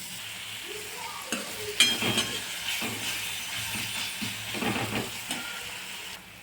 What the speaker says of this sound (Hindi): और प्याज को खूब अच्छे से भून लेंगे